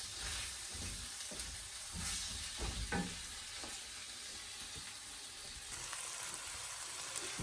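Aubergine and chickpeas sizzle and fry in a pan while being stirred, a steady close hiss with a few soft scraping stirs of the spoon and no talking.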